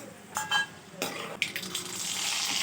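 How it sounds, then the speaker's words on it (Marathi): One spoonful of mustard seeds dropped into hot oil in a wok, giving a few clinks and rattles that build into a rising, steady sizzle and crackle. "आता कढईमध्ये मोहरी टाकलेली आहे एक चमचा टाकलेली आहे"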